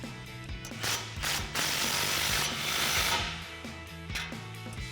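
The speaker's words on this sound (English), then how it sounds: "We'll go ahead and slide that on and then snug it up with our 15mm socket." Ratchet with a 15mm socket tightens a 2.5-inch exhaust clamp on a Silverado exhaust bend, giving repeated clicking strokes in an uneven rhythm, close and fairly loud, with a brief louder burst midway and no talk.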